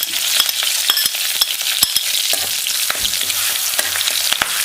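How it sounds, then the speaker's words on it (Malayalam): Crushed shallots of two kinds and curry leaves frying in hot coconut oil, a loud, steady crackling sizzle with sharp pops scattered throughout and no voices. "2 തരം ഉള്ളി ചതച്ചതും വേപ്പില ഞങ്ങളുടെ എണ്ണയിലേക്ക് ഇടുക കേട്ടോ"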